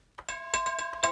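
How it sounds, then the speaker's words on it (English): The Ice Chimes preset on the u-he Metaphorium synth, bright bell-like chime tones struck in a quick rhythmic pattern of four or five ringing hits, each sustaining shimmering overtones, clear and fairly quiet. "Let's try another preset. Ice Chimes."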